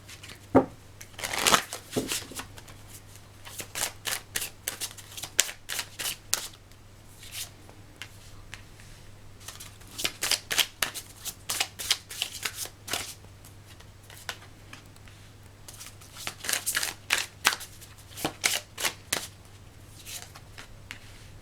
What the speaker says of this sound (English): I'm going to pull a card for each pile from the Sign of the Times Oracle